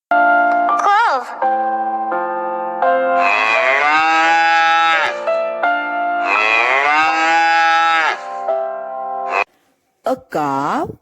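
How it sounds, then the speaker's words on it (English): Cattle lowing on a farm, several long, loud, drawn-out moos in succession with rising and falling pitch, close to the listener, ending with a shorter final call after a brief pause. "A cow moos."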